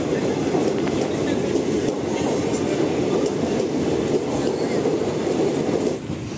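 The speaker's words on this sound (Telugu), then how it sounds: "ఫ్రెండ్స్ చూస్తున్నారు కదా, మన సర్కార్ ఎక్స్ప్రెస్ అయితే వచ్చింది." The Circar Express passenger train rolls into a station, its steady loud rumble and rhythmic wheel clatter filling the scene continuously at close range.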